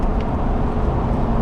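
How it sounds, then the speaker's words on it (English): Steady low road and tire roar inside a lifted Ford F-250 riding on 37-inch tires, a continuous rumbling drone with no talk over it. "Woo, these tires are loud."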